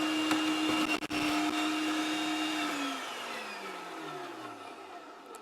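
Electric chopper whirring loudly as it chops onions for dehydrating, a steady motor drone with a brief clatter near the start, then the pitch sliding down as the blades slow and wind down toward the end.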